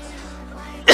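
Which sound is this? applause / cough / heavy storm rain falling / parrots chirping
cough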